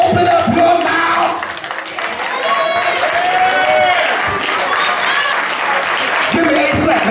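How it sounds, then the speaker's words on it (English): A loud, sustained wave of clapping and cheering from a church congregation during a eulogy service, with voices calling out over the applause throughout. "Give me a clap, baby."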